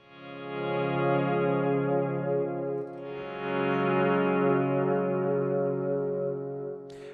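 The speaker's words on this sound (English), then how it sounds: "So if we were just to swell into a delay, this is how it would be." Electric guitar notes swelling in from silence into a delay pedal, sustained chords with ambient echoing repeats, a fresh swell near midway, loud and steady without any voices.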